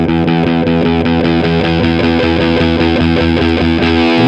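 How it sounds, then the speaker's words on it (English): Electric guitar with heavy power amp distortion chugs in a steady, driving rhythm, loud and saturated throughout with no voices. "what you're getting is power amp distortion"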